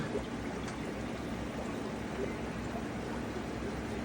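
Water from a DIY aquarium internal canister filter setup, holding sponges and shrimp, is scooped and poured, a faint continuous trickling wash at low level with no voices.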